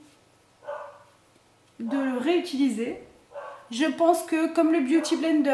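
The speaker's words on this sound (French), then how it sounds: "Si vous entendez un chien, je suis navrée, c'est le chien de mon voisin." A neighbour's dog barks and yips in short bursts nearby, partly under someone talking indoors.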